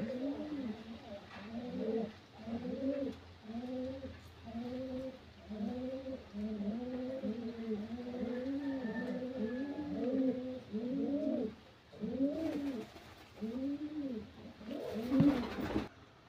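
Pigeons coo in a loft cage, a steady run of soft, repeated rolling coos close by, about two calls a second with brief gaps, and a faint clatter near the end.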